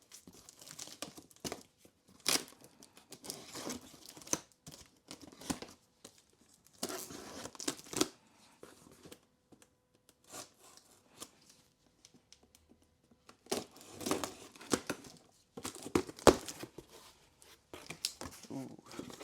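Packing tape torn and crinkled off a box during an unboxing of car detailing products, coming in close, irregular bursts of ripping and crumpling separated by quiet gaps, with someone talking intermittently.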